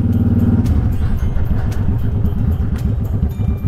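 A Honda Shadow motorcycle engine runs at high RPM while riding through a downtown area, a loud continuous rumbling drone heard close up from the rider's seat, with wind and road noise.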